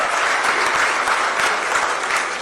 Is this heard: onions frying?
no